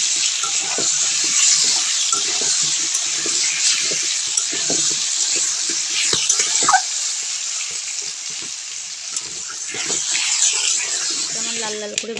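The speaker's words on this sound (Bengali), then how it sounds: "লবণ হলুদটা দিয়ে আমি আলুটা ভালো করে ভেজে নেব" Potato pieces fry with salt and turmeric in a pan, giving a steady close sizzle with occasional stirring scrapes throughout.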